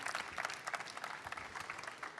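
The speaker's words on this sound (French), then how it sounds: "remercier par des applaudissements" Brief, faint audience clapping at an innovation awards ceremony, a soft patter of hands heard from a distance that lasts only a couple of seconds.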